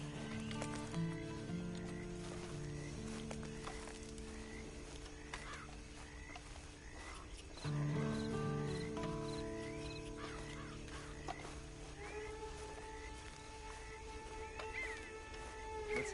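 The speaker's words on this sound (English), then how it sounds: "Then you better get on this horse." Horse hooves clip-clop in the Red Dead Redemption video game, a steady mid-distance rhythm mixed with tonal music and croaking ambience.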